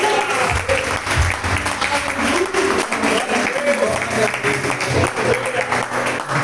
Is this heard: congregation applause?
yes